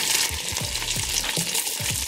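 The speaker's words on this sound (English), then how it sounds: "Now you want to cook those until they're transparent." Onion frying in a pot at the start of a vegetable beef stew, a loud steady sizzle close by with rhythmic scraping strokes as it is stirred.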